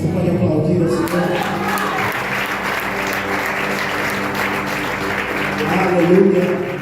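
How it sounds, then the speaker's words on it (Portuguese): A church congregation applauding in a worship service, a dense, steady wash of clapping that swells slightly near the end, with a voice speaking over it. "Você pode aplaudir a Senhor"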